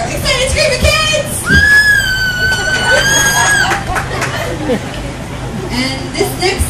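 Dolphin at a Key West marine show mimicking excited screaming kids, a loud squealing whistle that rises and holds for a couple of seconds amid crowd chatter and shouts.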